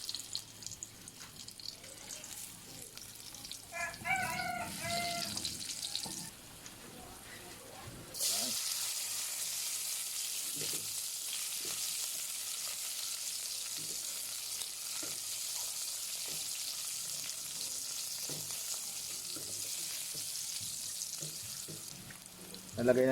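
Ginger and chili flakes sautéing in hot oil for duck adobo, a steady sizzle that swells partway through, with a brief burst of clinking and splashing water earlier and faint scattered kitchen sounds.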